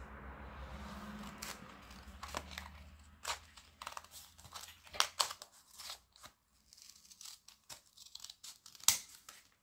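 Paper is cut and handled for a junk journal signature, with a series of soft snips, crinkles and rustles, close and quiet, in an irregular rhythm with no talking.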